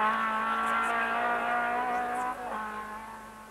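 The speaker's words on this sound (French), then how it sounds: "La BMW et ici la Ford Sierra font donner toute leur cavalerie." BMW and Ford Sierra rally cars at full power on the 1987 Tour de Corse, a loud sustained engine howl with shifting revs and a brief gear change near the end, no talk.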